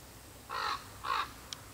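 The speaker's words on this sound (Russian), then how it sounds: "Вороны здесь вокруг нервничают, потому что мы навели беспорядок." Two nervous crows caw outdoors, two harsh drawn-out calls half a second apart, followed by a brief faint chirp, over steady background hiss.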